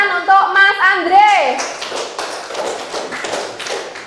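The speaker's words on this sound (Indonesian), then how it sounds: "beri tepuk tangan untuk Mas Andre." Clapping erupts in a primary classroom for a student named Andre after a voice finishes speaking, with a loose burst of tapping claps that thins out toward the end.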